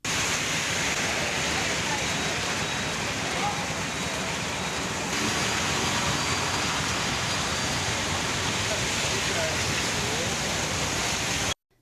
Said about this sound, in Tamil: அரை மணி நேரத்திற்கு மேலாக பெய்த கனமழையால் வெப்பம் தணிந்து குளிர்ச்சியான சூழல் நிலவியது